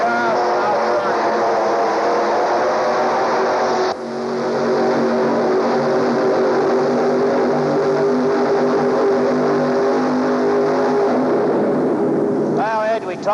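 A pulling tractor roars loudly and steadily during a tractor pull, its engine drone sustained for several seconds with a brief rev at the end, while announcers talk over it.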